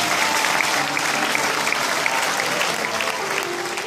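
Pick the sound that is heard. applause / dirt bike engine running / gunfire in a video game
applause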